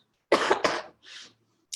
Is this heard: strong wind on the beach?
no